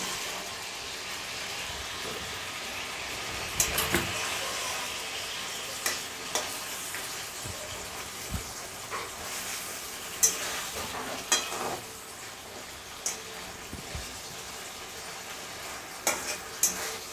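Fried prawns go into a simmering creamy malai curry sauce, a soft steady sizzle and bubbling under intermittent spoon clinks and scrapes against the pot, with no voices.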